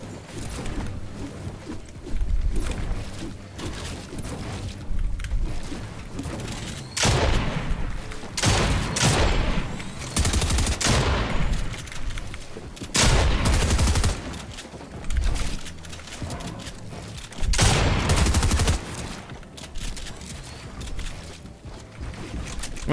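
Repeated gunfire bursts from a Fortnite fight, including pump shotgun blasts, crack out in loud clusters over a constant game soundscape, with several heavy volleys spaced a few seconds apart.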